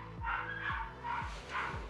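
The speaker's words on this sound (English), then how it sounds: "it's probably those crazy neighbor dogs" Neighbours' dogs bark in the distance, four barks spaced about half a second apart in a steady rhythm, fairly faint, heard alone without talk.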